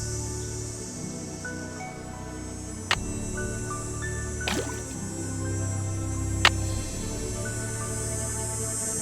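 A hand pump in the video game Ghost Dogs of Moon Lake, with water dripping and squishing in a steady wet patter over a low game ambience, broken by a few sharp clicks.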